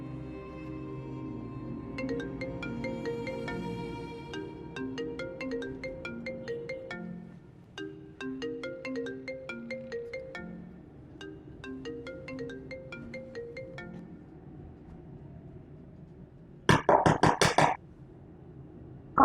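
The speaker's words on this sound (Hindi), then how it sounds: "आप फोन ही नहीं उठा रही।" A mobile phone ringtone plays a repeating melodic tune for about fifteen seconds at steady moderate volume, then stops, followed by a brief throat clearing or cough.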